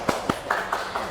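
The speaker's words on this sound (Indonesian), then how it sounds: "Tepuk tangan dulu dong buat kita." A few separate handclaps sound during a university class session, five sharp claps spaced about a quarter second apart. They are fairly faint and sparse, not a full round of applause.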